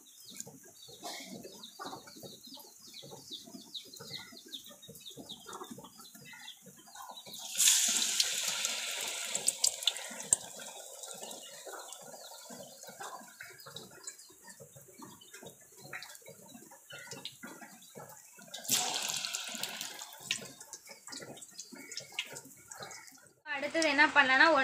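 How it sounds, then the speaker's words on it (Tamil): Medu vada batter frying in hot oil gives a steady low sizzle under talking, swelling into louder hissing bursts as more pieces go into the pan. "இந்த சைடு நான் எண்ணெய் வந்து நல்லா காய வச்சு வச்சுருக்கேன். இப்போ இதில் வந்து நம்ம வந்து வடையை போட்டு எடுத்துக்கலாம்."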